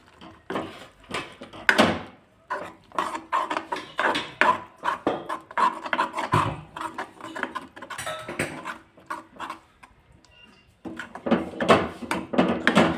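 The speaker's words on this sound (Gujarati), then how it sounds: "હવે આપણે રીંગણા બાફેલા એડ કરી દઈશું હવે આપણે બધું જ મિક્સ કરી દઈશું" Boiled brinjal is stirred into a pan for Kathiyawadi-style oro, with a steady run of close, uneven clatters and scrapes from the utensil against the pan, pausing briefly before resuming.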